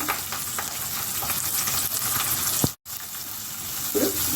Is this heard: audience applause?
no